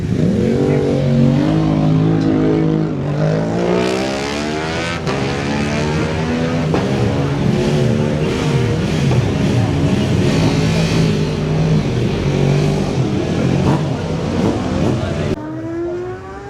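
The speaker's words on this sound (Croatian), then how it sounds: "Buka motora, zadovoljstvo, još bolji motori, a evo uvjerite se i sami." Racing motorcycles at the Isle of Man TT roar past loudly and continuously, engines revving and rising and falling in pitch as machines pass near, with crowd and ambient noise beneath.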